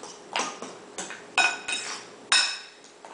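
Utensil stirring top ramen noodles cooled with ice, giving a series of clinking, scraping strokes against the bowl, about six distinct hits spaced irregularly over a few seconds, close and fairly quiet.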